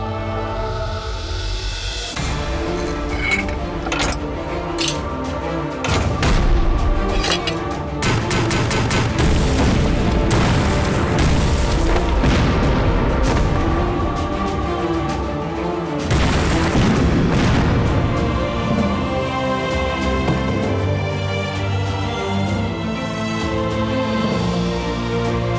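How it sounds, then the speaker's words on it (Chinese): Artillery bombardment of an enemy position in a war film about the anti-Japanese war, with mountain guns firing: loud, continuous booms and blasts layered over one another, with dense fusillade-like crackle throughout. "照着一连阵地给我狠狠的轰"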